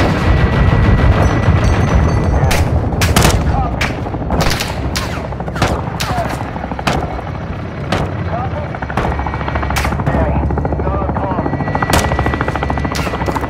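Weapons fire on a marked target in Call of Duty Modern Warfare II: repeated loud gun bursts and heavy impacts crack over a constant deep helicopter rotor drone, with radio voices talking underneath.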